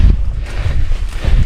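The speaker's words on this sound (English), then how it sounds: "it is so windy" Strong gusts buffet the microphone on an exposed, treeless slope in the Wind River Mountains, a loud rumbling roar that surges and swells in waves, with no voices.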